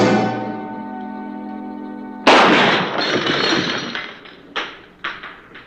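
Sniper gunfire in a deserted western town, a sustained tone cut by a loud close shot, then a ringing echoing tail and two more fainter cracks spaced a half second apart.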